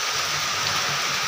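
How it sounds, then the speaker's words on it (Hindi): Heavy rain pours steadily outside in a dense, even hiss, close and loud throughout, with no pauses or voices. "कितनी तेज बारिश चालू हो गई है"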